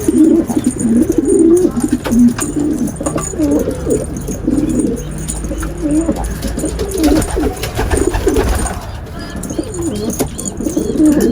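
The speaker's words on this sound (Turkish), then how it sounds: "Baştan karada şu şekilde ötüyor zaten." Repeated soft, low cooing calls from a Baştankara pigeon, close by and steady, with faint background noise and no talking.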